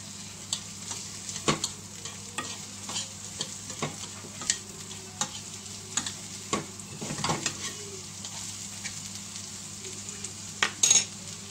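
Spring onion fries in a pan for Chinese-style sweet and sour crispy chicken, a quiet steady sizzle punctuated by frequent light scrapes and taps of stirring, close by and without talk.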